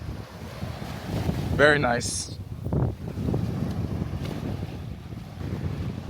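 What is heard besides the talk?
ocean waves on a beach in Aruba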